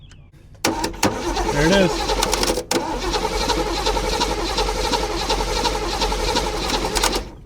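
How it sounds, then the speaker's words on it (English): Chevrolet C10 truck, an abandoned project vehicle, cranking on its starter and then catching into a steady running engine close by, with a brief break in the noise and someone speaking over it. "Starter does engage flywheel and turns the motor over nicely"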